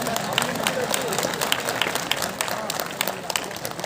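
A live audience at a Hindi comic poetry gathering in Lormi claps for a poet, a dense crackling wash of applause with sharp individual claps rising and falling, close and loud, with a voice faintly under it.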